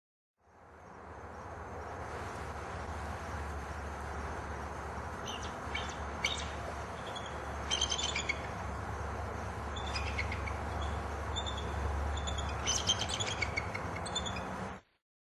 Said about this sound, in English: It's the sounds of the birds that you first notice in the early morning